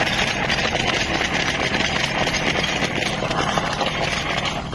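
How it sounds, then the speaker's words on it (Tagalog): A small air compressor runs continuously close by, giving a steady, dense mechanical drone with a buzzing motor hum and no pauses. "Yun po ang air compressor ko, yung maliit lang na yon"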